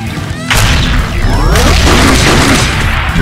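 Grenade launcher and RPG firing in an animated warfare game at a power plant, heavy booms with whooshing blasts and crashing debris, loud and continuous with no speech.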